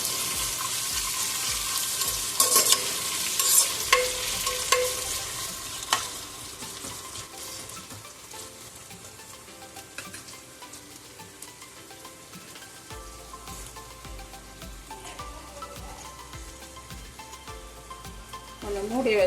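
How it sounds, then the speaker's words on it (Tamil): Onions sauté in a pan for Chennai-style chicken biryani, a soft, continuous sizzle with scattered clinks and stirring scrapes, fairly faint and steady throughout. "வெங்காயம் போட்டு மெரூன் கலர்னு போகிற வரைக்கும் வதக்கணும்"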